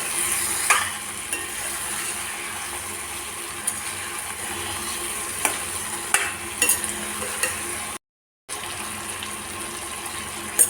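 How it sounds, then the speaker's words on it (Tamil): Brinjal pieces with their stems fry in oil with masala, giving a steady close sizzle with scraping stir strokes throughout and a brief silent break near the end. "நல்லா எண்ணெயிலே வதக்கி எடுத்துக்கலாம்."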